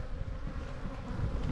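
Bees buzz close around the camera at an open hive, a dense continuous hum with slight rises and falls in intensity.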